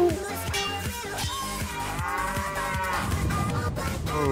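Giant cows in the Diablo 2 Cow Level video game moo loudly over a dense music and battle soundscape, with continuous layered bellowing throughout.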